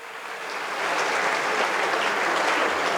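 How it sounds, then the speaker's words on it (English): A crowd applauds Brampton's Mayor Linda Jeffrey as she stands, a dense, continuous roar of clapping that swells slightly and holds steady throughout. "Let's give her a round of applause."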